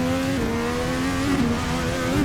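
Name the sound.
Formula NA 2021 IndyCar engine in Assetto Corsa video game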